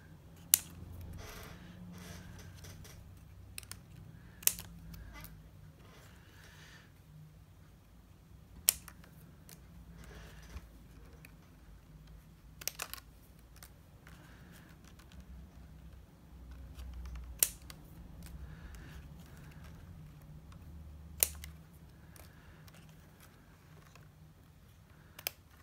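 Scissors snip paper pieces to varying lengths for a butterfly journal craft, with sharp isolated cuts spaced several seconds apart over quiet room tone and faint rustling of paper.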